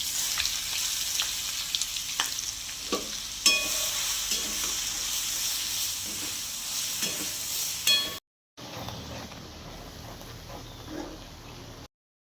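Garlic paste hitting hot oil with already-crackled mustard seeds, loud continuous sizzling with stirring scrapes, a short break, then a quieter steady fry.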